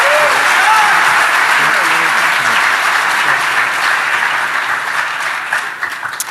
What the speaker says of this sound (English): How about a round of applause for our first-time speaker and for our first-time attendee?